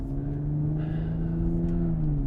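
An Audi S4 with an APR Stage 1 tune accelerates, its engine droning with a steady low hum and rising whir heard from inside the car, loud and continuous without talk.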